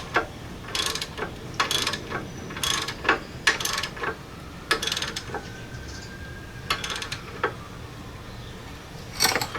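Ratchet wrench snugging bolts on a Jeep Dana 30 front steering knuckle: repeated short bursts of clicking ratchet strokes, close and fairly crisp, spaced irregularly over several seconds with quiet gaps between.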